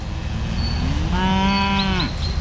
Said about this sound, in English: Lunchtime for the cows. Well, that bull called, so they all came over.